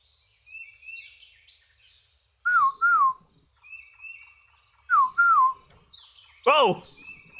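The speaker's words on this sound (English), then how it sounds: "if all it is just me hearing this bird call over and over again" Repeated bird calls in the video game Seeker: short whistled chirps and looping two-note phrases recurring in isolation against silence, with a louder, harsher burst near the end.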